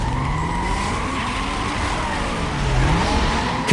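Video game car crash mode plays out as a continuous wash of skidding tires and engine roar, with a steady loud level and a sliding squeal weaving through the noise.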